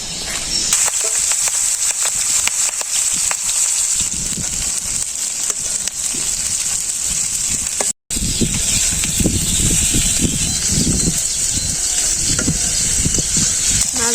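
Small shing fish frying in oil with salt, turmeric, chili and coriander powder, a steady loud sizzle and hiss throughout, interrupted by a brief silent break, close to the pan.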